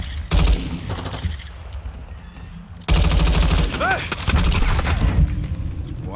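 A 556 Icarus light machine gun fires in Call of Duty: Modern Warfare II in two long, loud automatic bursts split by a short pause, with game effects and a voice in the background.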